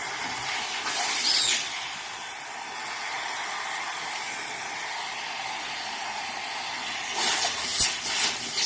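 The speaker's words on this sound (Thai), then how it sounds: "ล้างระบบภายในตู้แอร์ของรถ Honda Civic นะคะ" A Honda Civic air conditioner evaporator being flushed out inside the dash unit, heard as a steady hiss of spraying fluid with louder bursts of pressurized spray near the start and end.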